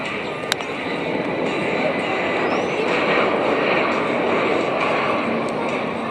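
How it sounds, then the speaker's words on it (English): Private jet landing at Camarillo airport, a broad steady engine roar heard from a distance that swells slightly midway, with faint voices and outdoor ambience around it. "This huge private jet landing."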